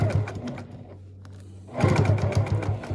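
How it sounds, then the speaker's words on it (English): A sewing machine runs an edge stitch around the outside of a fabric mask, whirring steadily close by, pausing briefly in the middle before resuming at a slightly louder, fuller pace. "what I'm going to do is come and stitch all the way around the entire outside with just an edge stitch"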